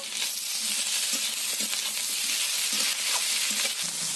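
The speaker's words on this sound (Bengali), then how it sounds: "পেঁয়াজ আর আলুগুলো আমার ভালো করে ভাজা ভাজা হয়ে গেছে, ওতে দিয়ে দেব কেটে রাখা বেগুনগুলো।" Eggplant pieces added to potatoes and onions fry loudly in a pan, a dense, steady sizzle broken by occasional clinks and scrapes of stirring.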